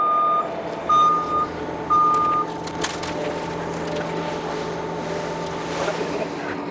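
A cement truck backing up at a house construction site in Las Vegas sounds three long, steady reversing beeps over a low idling diesel engine rumble, with wind and clatter continuing after the beeps stop.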